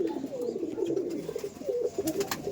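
Madras pigeons coo steadily in a low, rolling murmur, with several birds overlapping close by and no talk over them.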